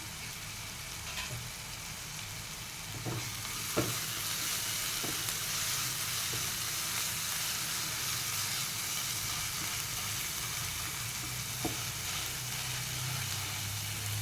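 Paneer bhurji sizzles steadily in a pan for a long stretch, a low even frying hiss with a few faint knocks of a spoon stirring, quiet and unbroken by speech.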